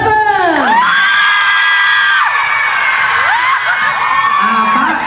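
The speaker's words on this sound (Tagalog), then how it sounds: "Palakpakan may kasama sigawan para sa ating contestant number 7!" A crowd cheers for contestant number 7 at a twerking contest, loud shrill screams and whoops dominating, with several rising and falling yells layered over a steady roar.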